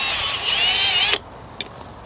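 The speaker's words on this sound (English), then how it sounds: "Drill me hole right where it goes." A power drill bores a hole for an electrical socket while wiring a garden room summer house, a loud steady whine that cuts off abruptly after about a second, followed by a faint click.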